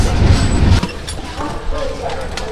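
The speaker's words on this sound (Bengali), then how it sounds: "আর আমাদের ট্রেনটা এই সুজলপুর জংশন থেকে ছেড়ে দিল।" Shipra Express passenger train leaving Suzalpur Junction on the nonstop run toward Ujjain, a loud low rumble that drops off after the first second into steadier rolling noise, with voices talking over it.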